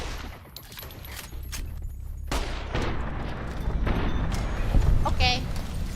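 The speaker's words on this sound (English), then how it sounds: "What are you shooting?" Gunfire in Fallout: New Vegas, a string of sharp shots and bursts cracking over a busy game soundscape, with a voice talking over part of it.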